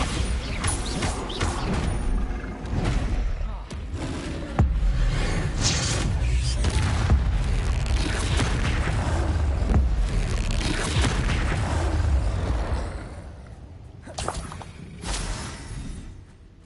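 Bombarda spell explosions from a Harry Potter video game, a series of deep booms with shattering crashes and whooshes, loud and dense before fading to quieter sounds near the end.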